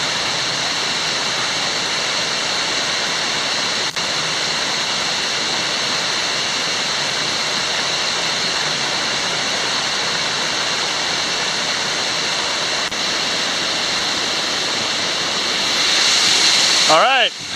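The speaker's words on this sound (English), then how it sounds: "I have just arrived at that waterfall" Waterfall on a jungle trail in Malaysia's Kubah National Park, a steady, loud broadband rush of falling water that continues without a break, with faint wind on the microphone near the end.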